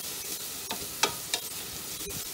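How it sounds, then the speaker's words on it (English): Garlic frying in a pot on an induction burner at 800 watts, a steady soft sizzle with a few light scraping strokes as the spoon stirs through it, close and clear. "Give it a stir around."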